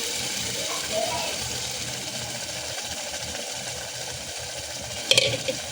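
Chickpeas tipped into roasted masala in a hot pan, with a steady low sizzle and frying hiss throughout and a brief clatter near the end.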